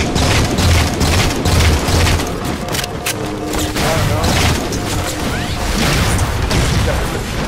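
A Halo 4 Spartan Ops firefight on Valhalla bursts with a loud explosion, deep booms, crashing impacts and scattered gunshots layered together, dense and close throughout with a brief whoosh near the end.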